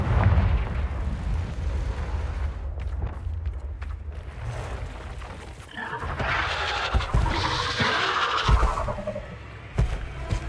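A Confringo blast spell erupts in Hogwarts Legacy, a rolling, rumbling explosion amid sustained battle noise, with a sharp burst near the end.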